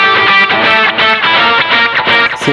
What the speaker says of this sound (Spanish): Sientas esas cuerdas que suenan al aire.